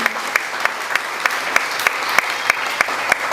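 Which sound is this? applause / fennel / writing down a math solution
applause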